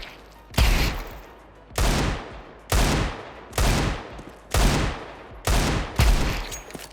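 Seven loud Desert Eagle pistol shots ring out in Counter-Strike 2, spaced roughly a second apart in a steady rhythm, each with a sharp crack and a decaying tail, with no talking.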